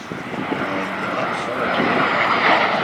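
A military trainer aircraft flies at an airshow at RAAF Edinburgh, South Australia, producing a loud, steady jet roar that swells slightly as it passes.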